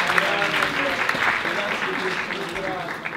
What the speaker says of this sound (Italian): Grande applauso, grande